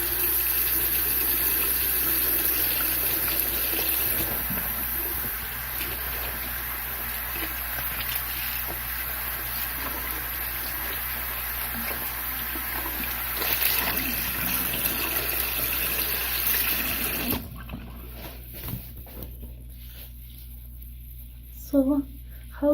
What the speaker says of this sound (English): so I'm going to wash my face.